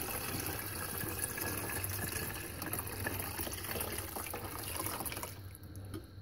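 Water pours steadily into a 1980s plastic Norelco 12-cup Ready Brew 2 coffee maker reservoir, a continuous close splashing fill lasting about five seconds before tapering off.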